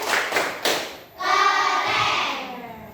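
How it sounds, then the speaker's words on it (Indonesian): A brief burst of hand clapping from a class of pupils in a primary school science lesson, a few sharp claps followed by a steadier wash of noise with young voices cheering along. "Ya, tepuk tangan"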